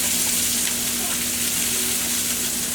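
Onions sizzling and frying in oil in a pan for smothered pork chops, a steady close crackle with occasional stirring scrapes throughout.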